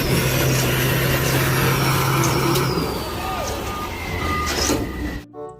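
A toy tilting truck (truk oleng) makes a loud, continuous engine-like drone with a sustained tone that drops in level partway through. It ends abruptly, with a brief voice at the very end.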